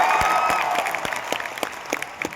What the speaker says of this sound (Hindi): एक बार दिनकर स्रोत संस्थान के लिए जोरदार तालियां।